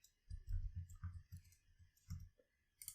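Computer keyboard keys tapped while entering a password, a quick irregular run of about a dozen light clicks at close range, with brief pauses and a final click, no talking.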